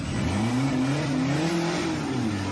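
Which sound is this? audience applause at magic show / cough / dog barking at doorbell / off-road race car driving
off-road race car driving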